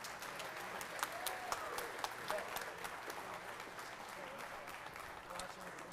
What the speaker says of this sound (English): Yeah, you can give him another round of applause.